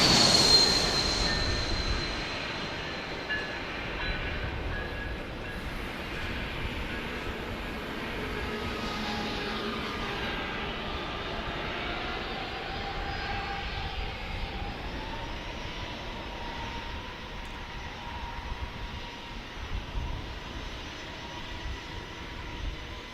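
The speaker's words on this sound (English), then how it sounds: "Here we have a Delta A220 landing right now." A Delta Airbus A220-100 lands at San Diego airport, a steady, distant jet roar with a rising whine that holds throughout, with no talking.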